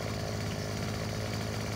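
A chainsaw cuts down a tree in the forestry game Farming Simulator 2017, heard as a steady, loud, buzzing engine whine that holds without a break.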